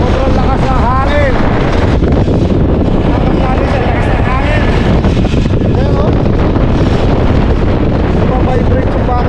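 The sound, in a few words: strong wind at Haeundae Blueline Park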